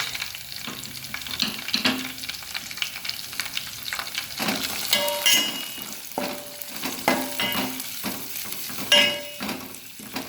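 Cabbage sautés with golden-brown garlic, a sizzle broken up by repeated scraping and clanking as a utensil stirs the pan, loud and uneven, with no voices.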